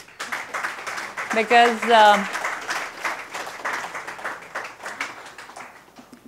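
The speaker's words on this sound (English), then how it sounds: "Women can clap to that." Audience claps at a national women's summit session, a loose patter of hands running under a woman's ongoing speech, with a brief sung or tonal voice in the middle.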